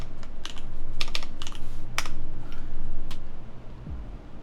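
Mechanical keyboard fitted with Shaka Tactile switches being typed on, crisp close keystrokes in short irregular bursts with a few louder clacks, over a faint steady background hum.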